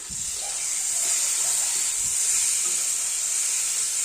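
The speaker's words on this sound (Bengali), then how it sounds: "ফাইনালি চাপাটা নামিয়ে দিলাম" Steam hisses steadily and loudly as the lid comes off a cooking pot of pumpkin simmered with shrimp, a continuous bright rush of vapour with no voices.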